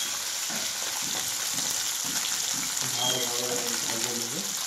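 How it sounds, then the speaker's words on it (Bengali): Fish pieces for a Bengali cheng fish curry sizzle steadily in hot oil, a constant hissing fry with faint clinks and a quiet tonal hum, no voice heard over it. "ভালোভাবে আমি ভেজে নেব।"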